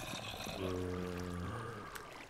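In Minecraft, water pouring and trickling in a soft, steady stream, with a low humming tone running underneath for about a second.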